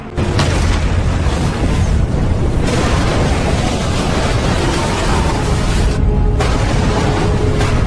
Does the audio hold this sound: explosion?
yes